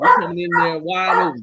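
A dog barks and yips close by inside a house while someone talks loudly over it.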